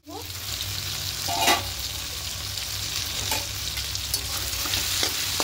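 Mixed vegetables frying lightly in a pan for a vegetarian sweet-sour-spicy mung and chana dal give a loud, continuous, close sizzle with occasional sharper spatters and stirring clicks.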